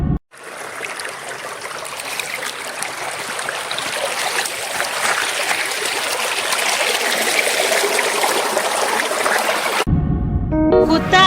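Water pours and splashes steadily for about ten seconds, a continuous broadband rush like a waterfall shower, close and loud, then cuts off abruptly as voices follow.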